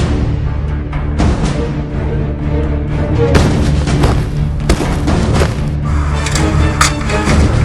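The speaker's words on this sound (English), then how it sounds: "Throwing flashbang." Flashbang grenade going off in a Nerf toy gun fight: a loud, sustained booming roar with heavy low rumble and a sharper burst partway through, and no talking over it.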